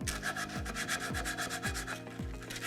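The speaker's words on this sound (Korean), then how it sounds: "구멍 부분을 샌딩 해주실 때는 사포를 동그랗게 말아서 구멍에 넣으신 상태로" Rhythmic rasping strokes of rolled-up sandpaper rubbing inside a drilled hole in a wooden cutting board, close and steady, about two strokes per second with no talking.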